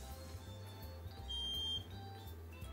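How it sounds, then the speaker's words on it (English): A single high electronic beep sounds briefly and faintly over a low background hum. "Another beep."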